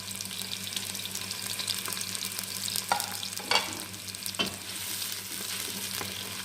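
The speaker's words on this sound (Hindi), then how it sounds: "हल्का सा इसको फ्राई करेंगे" Ginger, whole cumin seeds and chopped green chillies frying in hot oil, giving a continuous close sizzle with a few scraping stirs and clinks against the pan.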